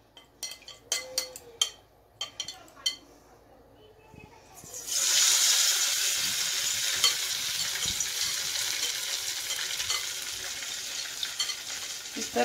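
Stuffed paneer coated in cornflour batter is lowered into hot oil for deep frying: a few sharp clicks and taps give way, about a third of the way in, to a loud, steady, bubbling sizzle that continues to the end.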